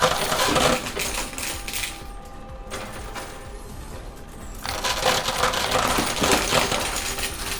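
Heavy clattering cascades of coins spill in a high-limit arcade coin pusher, loud and dense at the start and again in the second half, with a quieter stretch of continued jingling between.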